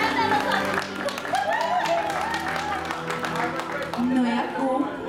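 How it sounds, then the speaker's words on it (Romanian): Guests at a baptism party applaud, a scattered run of clapping heard under voices and chatter of the crowd that continues throughout. "Puteți însă, în cinstea mea, cu toții să aplaudați."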